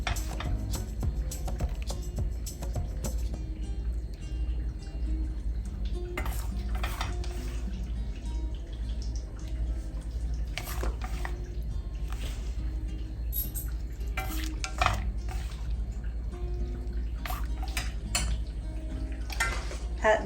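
Noodles being stirred into sauce in a pan on a low gas flame, with scattered soft clinks of utensil against pan and wet squishing over a low steady hum, quiet and close, no talk.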